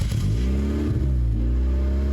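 A car fitted with a Spoon Sports street exhaust revs from about three or four feet away, a steady, loud, throaty drone with the pitch rising and falling over two seconds.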